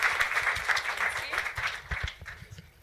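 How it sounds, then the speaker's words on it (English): Audience applause fills a conference room at a women in games event, dense steady clapping from a crowd that tapers slightly toward the end, with no talk over it. "So give them all a huge round of applause."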